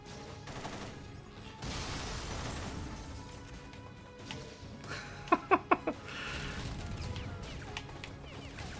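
Gunfire in a video game: a tight burst of three or four sharp shots stands out midway, over a low bed of game noise and distant firing.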